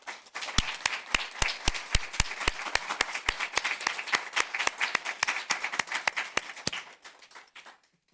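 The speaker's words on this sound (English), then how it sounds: "Please stand up and let us give you another round of applause." An audience at a board of education meeting applauds, with a diffuse bed of clapping under a strong, evenly paced run of louder claps that fades out after about seven seconds.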